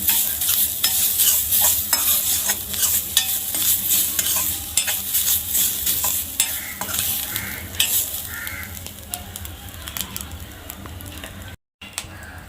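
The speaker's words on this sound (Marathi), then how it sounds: "आता आपण ओला नारळ भाजून घेऊया तो पण थोडासा लालसर होईपर्यंत आपण परतून घेऊया" Grated fresh coconut is roasted in a dry pan and stirred continuously, giving steady close scraping and light crackling with frequent spoon knocks and a faint crow calling in the background.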